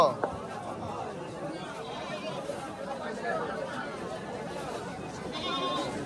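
Goats bleating at a busy village livestock market in Guimara, Khagrachhari, their calls rising over constant crowd chatter and nearby voices.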